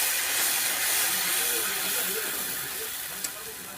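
Tomato poured into a hot pan of fried onions sets off a loud, steady hissing sizzle close by that slowly eases, with a small clink near the end and no talk over it.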